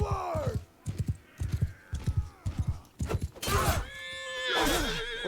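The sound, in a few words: horse neighing in video game Mount and Blade 2 Bannerlord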